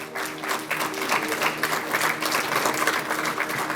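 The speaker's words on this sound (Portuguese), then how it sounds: "Há que aplaudir mais forte" Lively applause from a congregation at a church service, steady and fairly close, filling the whole short stretch with continuous clapping.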